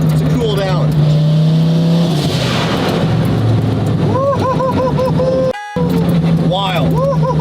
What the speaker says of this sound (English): Get back in, we're gonna drive back.